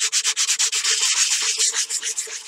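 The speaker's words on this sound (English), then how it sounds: "grab your stick, sandpaper, and go ahead and do that" Sandpaper wrapped on a stick scrubbing inside a cardboard model rocket body tube for an Estes Shuttle build, a rapid rhythmic back-and-forth rasp, close and steady, with no voices.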